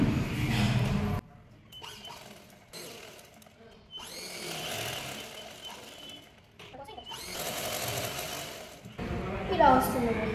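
A sewing machine stitches a straight seam on a boat-neck long frock in short runs of whirring, separated by quiet gaps, with someone talking between bursts.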